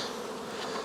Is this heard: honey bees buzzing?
yes